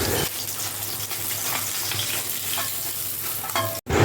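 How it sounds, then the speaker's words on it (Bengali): Bay leaf with white and black cumin drops into hot oil left from frying fish and gives a loud, dense sizzle that stays close and steady. It breaks off for a moment near the end. "এবারে এই তেলেই তেজপাতা, সাদা জিরে আর কালো জিরে ফোড়ন দিতে হবে"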